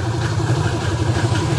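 A Kawasaki Fury 125 motorcycle, recently troubleshot for stalling when the turn signal is used, idles with a steady, low, even engine drone that holds without dying for the whole short stretch.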